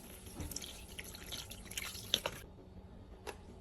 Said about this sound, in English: we're just going to go ahead and add some beef stock